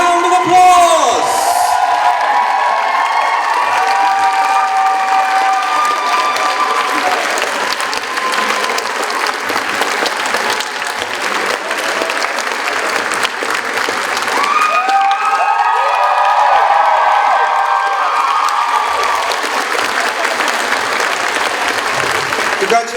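A convention crowd at a cosplay competition awards ceremony claps and cheers for the winner, loud sustained applause with shouts and whoops rising in two bursts, at the start and again midway.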